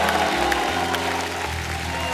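Studio audience applause on The Kapil Sharma Show, a steady, dense wash of clapping across the whole stretch, with music and faint voices mixed underneath.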